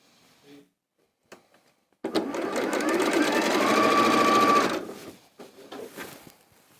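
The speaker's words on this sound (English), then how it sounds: "I'm going to sew those together and I'm going to make 4 of these" A sewing machine runs in one steady burst of about two and a half seconds, stitching pieced cream and pink quilt block strips together, bracketed by quiet handling noises before and after.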